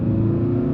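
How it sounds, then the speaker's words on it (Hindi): A Tata Safari automatic accelerating in performance mode and shifting gears itself, heard from inside as a loud, steady low engine drone with rumbling harmonics across the whole short stretch. "अभी अपने आप गियर चेंज कर रही है, मैं नहीं कर रहा बिल्कुल भी।"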